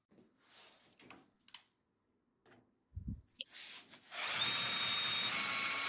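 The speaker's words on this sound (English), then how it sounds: "after we drill these rosette weld holes" A power drill bores rosette weld holes into metal down tubes for a chopper motorcycle frame. A few knocks and scrapes come first, then loud, steady drilling continues close by.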